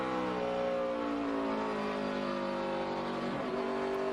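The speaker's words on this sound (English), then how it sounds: "Motor sounds fine here." A NASCAR stock car engine runs steadily at the 2012 Sargento 200 race, a loud continuous motor drone with a sustained harmonic whine and a brief pitch shift near the end, heard alone without talk.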